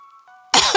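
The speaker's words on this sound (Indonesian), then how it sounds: "merintih kesakitan sambil terbatuk-batuk" A woman in pain coughs in a forest, one harsh, close throat-clearing cough bursting out after a brief faint tone.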